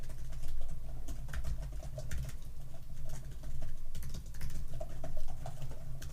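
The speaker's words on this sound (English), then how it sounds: "Stop typing so loud, please." Rapid, continuous clacking of keys on a keyboard, loud and close, steady patter with no talking.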